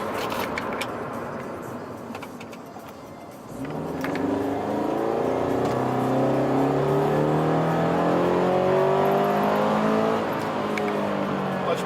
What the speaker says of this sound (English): I'm also doing this to give an idea of what the unequal length header sounds like.